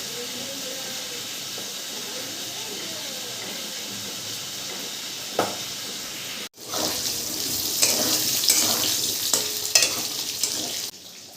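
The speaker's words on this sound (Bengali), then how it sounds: "ওদিকে দেখো আমার মাছগুলোও সব ভাজা হয়ে গেছে।" Boal fish frying in a home kitchen pan, a steady broadband sizzle that cuts off briefly, then returns louder with scattered spatters and a few sharp pops near the end.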